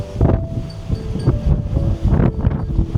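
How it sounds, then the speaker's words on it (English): Strong wind buffets the microphone in loud, gusting rumbles on an exposed height at Nothe Fort, a coastal fort in Weymouth, with the roar swelling and easing continuously and no talking. "Very windy up here as well, as you can probably hear."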